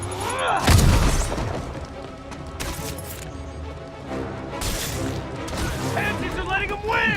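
A grenade goes off in the video game Marvel's Spider-Man, a loud booming blast near the start, followed by thuds, crashes and combat noise under shouting voices.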